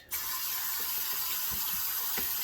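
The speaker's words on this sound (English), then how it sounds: "I will have running water periodically. I like to rinse my blade rather than wipe it." Tap water runs steadily into a sink while a straight razor blade is rinsed during a shave with Cella soap, a continuous close hiss with a few faint clicks of the blade under the stream.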